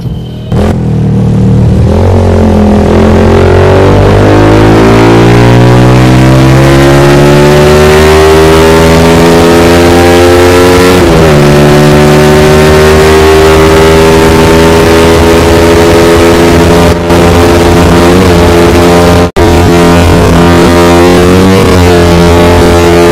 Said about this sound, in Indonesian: Dan seperti inilah kira-kira suara dari knalpot DBS Full Stainless Rainbow.